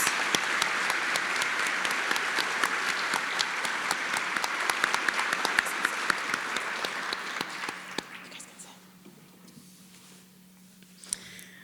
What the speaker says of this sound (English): Please let us give them a round of applause